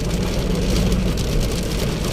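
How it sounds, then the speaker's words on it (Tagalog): A sudden heavy downpour hits the streets of Pasig as a dense, loud, unbroken hiss, with a faint engine rumble of passing traffic underneath. "lakas ng ulan"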